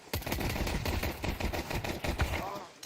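Rapid gunfire rattles through a Counter-Strike match, dense bursts of sharp shots and short volleys packed together, loud and close with almost no pause.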